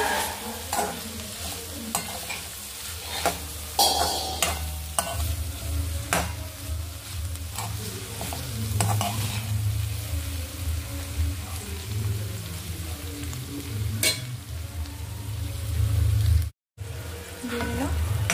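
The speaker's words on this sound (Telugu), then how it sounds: "ఇది కలిపి కొద్దిసేపు మగ్గనిచ్చి దీంట్లో కారం, ఉప్పు వేసి ఫ్రై చేసుకోవాలి." Barbet meat fries in a pan with ginger-garlic paste, chili and salt, making a continuous close sizzle and crackle that sounds almost like rain, with repeated scraping stirs throughout.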